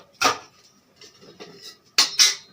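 A metal lid set onto a cooking pot in a home kitchen while dosas are being made, giving a few sharp clanks, one early and two close together near the end, with quiet kitchen noise between.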